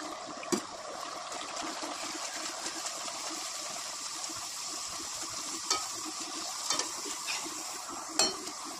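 Jute-leaf kochuri puff up in hot frying oil, a low steady bubbling sizzle with a few sharp clicks of a utensil against the pan, and no talking.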